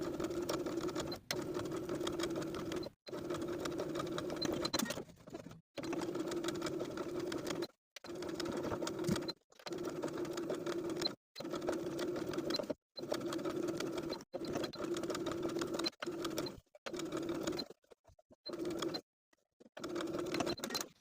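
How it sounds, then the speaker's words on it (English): A sewing machine understitches the neckline facing of a tiered maxi dress, running in steady bursts of a few seconds each, separated by short pauses as stitching stops and restarts around the front straps; close and clear, no talking. "as you're understitching, your presser foot won't allow you to sew all the way around those front straps"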